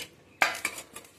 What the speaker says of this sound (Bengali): দিয়ে একটু ঢাকা দিয়ে দেবো।